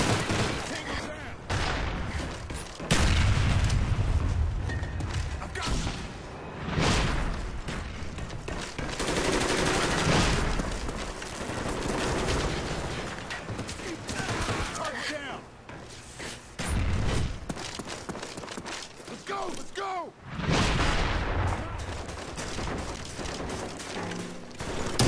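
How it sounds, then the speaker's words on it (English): Mortar blasts and sustained automatic gunfire in a Call of Duty–style shooter, with dense overlapping bursts, booms and crackling volleys running continuously at close range, with voices occasionally mixed in. "Enemy mortars incoming"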